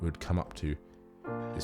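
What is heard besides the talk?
No everyday noise stands out behind the speech.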